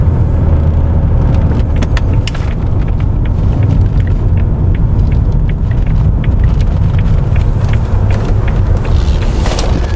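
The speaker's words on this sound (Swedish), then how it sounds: "Känner att växellådan växlar mjukt och fint." A Jaguar XJ (X300/X308) 4-litre saloon with an automatic gearbox cruises along, giving a loud, steady low road rumble and engine drone from inside the cabin, with faint small rattles and no talk.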